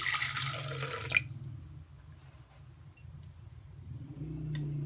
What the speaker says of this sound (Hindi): अब हम इसमें डालेंगे 1 कप पानी।